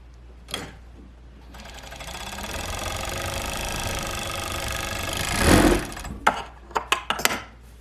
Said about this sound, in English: Once you have serged that bottom part, you're also going to serge this edge as well